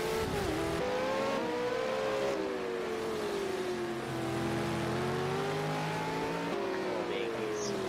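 V8 Supercar engine in a sim racing game on the Long Beach street circuit, revving up and down through gear changes with a hint of tire scrub, steady and close, with a voice commentating underneath.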